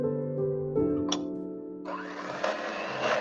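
An electric mixer whisks egg and sugar batter with a steady motor whine that shifts in pitch as the speed changes, then grows brighter and busier as the beaters work through the mixture.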